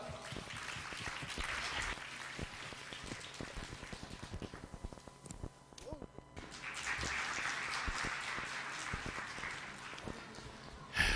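Audience applause welcoming a speaker to a lecture, a quiet, steady patter of clapping that thins briefly in the middle and then swells again, with a voice faintly heard.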